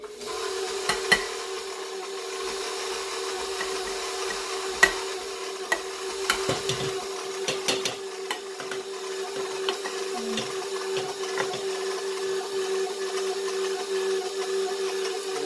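An electric mixer on low speed stirring flour into walnut banana bread batter, a steady motor hum with occasional knocks and scrapes against the bowl, close by and with no talk.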